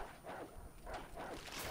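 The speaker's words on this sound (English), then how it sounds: "Zombie canines are going to be very annoying." Zombie dogs in the Resident Evil 3 Remake video game, a series of rough barks and yelps in quick succession, fairly faint over game ambience.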